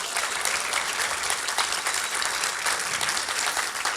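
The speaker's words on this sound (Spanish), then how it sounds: "Vamos a darle un aplauso a ellos." A church congregation applauds first-time visitors in a steady, dense burst of clapping that fills the hall throughout.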